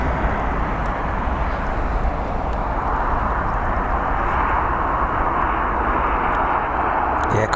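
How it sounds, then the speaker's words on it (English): Boeing 777-200ER with Rolls-Royce Trent 700 engines at Heathrow, a steady broad jet roar holding for several seconds at a fairly close distance, alone without talk. "777-200. ERs powered by the Rolls-Royce Trent 700s"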